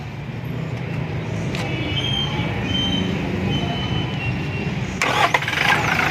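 A Toyota Hilux engine turning over and catching on a single key turn after a starter and solenoid switch repair, settling into a loud, steady close-up idle with a brief rise near the end.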